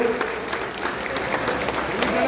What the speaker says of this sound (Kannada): ದಯವಿಟ್ಟು ಎಲ್ಲರೂ ಚಪ್ಪಾಳೆಯನ್ನು ನೀಡಬೇಕು